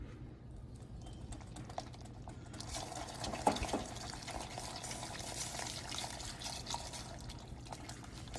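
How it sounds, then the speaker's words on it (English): Rum poured into a hot glaze in a pan with the heat just turned off, giving a soft sizzling bubble that swells partway through with a faint splash, quiet and steady. "we'll add in the rum"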